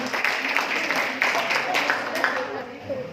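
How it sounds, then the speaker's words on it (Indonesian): Applause for Ecomax Coffee at a marketing presentation, a steady wash of clapping from an audience lasting the whole moment and fading slightly at the end. "aplaus buat Ecomax Coffee"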